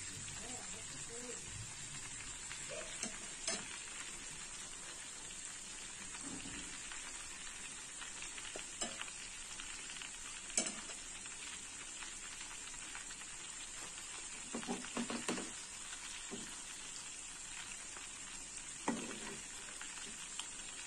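Food frying in a pan gives a steady, fairly soft sizzle and crackle that runs the whole time, with a few louder pops and spits now and then.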